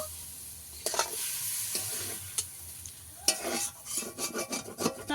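Rice fries in gravy for hilsa pulao, a low sizzle under repeated scraping stirs of a spoon against the pan, in close irregular bursts that grow busier toward the end.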